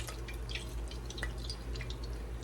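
Egg mixture drips steadily off flour-dredged food back into a bowl in a home kitchen, a string of small, close wet patters over a low steady hum.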